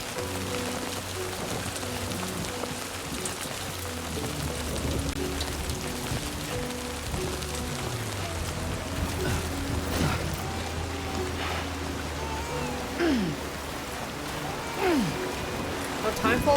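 Timefall rain in the video game Death Stranding 2, a steady patter of drops on surfaces heard alongside a low droning hum and a few soft, brief tonal sweeps, fairly quiet throughout.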